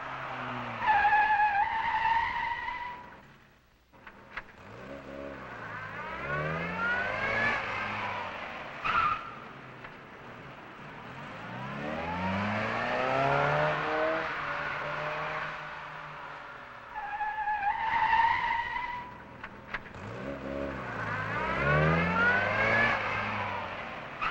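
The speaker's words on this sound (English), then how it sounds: "all cars are put through a severe braking and acceleration test" 1962 rally cars in a severe braking and acceleration test: tyres squeal and skid while engines rev up and pitch down across several runs, loud and close, the pattern repeating with brief lulls.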